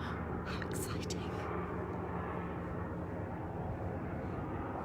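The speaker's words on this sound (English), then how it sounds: "Some kind of helicopter action going" Helicopter flying overhead near an airport, a steady broad rumble that holds loud through the whole stretch with a brief whooshing swell near the start; no talk over it.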